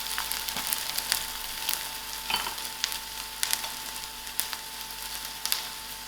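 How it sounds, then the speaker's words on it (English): Onions softening in a hot pan for spinach and feta pies crackle and sizzle steadily, with frequent sharp pops and spits scattered throughout and no talking. "I'm going to allow these onions to get soft"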